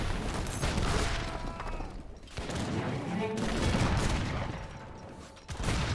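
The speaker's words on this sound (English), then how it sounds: "let the heavy cannons just fire away at it from a distance" Heavy cannons in a strategy video game pound a fort from a distance in a dense, continuous barrage of booming, crackling blasts with short lulls between volleys.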